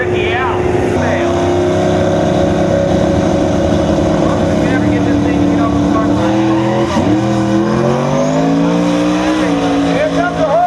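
Drag racing cars in the X275 class at MIR in 2010 roar down the strip, a loud sustained engine howl with rising gear pulls and tire squeal, an announcer talking over it.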